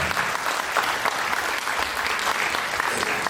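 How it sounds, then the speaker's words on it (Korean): Wedding guests in a grand ballroom at a convention hall in Anyang give sustained, warm applause during the ceremony, the dense clapping steady and fairly loud from start to finish. "여러분의 뜨거운 박수로 이 순간을 완벽하게 만들어주시면 감사하겠습니다"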